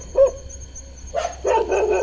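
Near a resort in Rajaji National Park, a dog barks several times, first with a single yelp and then with a run of hoarse barks at moderate distance, with no voices.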